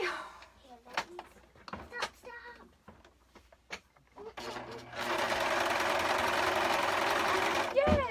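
A sewing machine starts up after a few seconds of people talking and runs in a steady, loud, rapid mechanical whir for about three seconds before stopping, while a top is being sewn.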